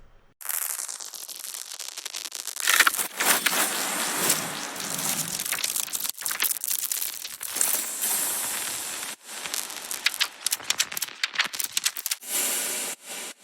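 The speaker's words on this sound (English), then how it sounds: "layering a bunch of samples that I processed in a certain way so that it" Layered processed samples form a strange, harsh transition texture of crushing static, crinkling grit and rattling bursts, loud and dense with abrupt cuts and dropouts throughout.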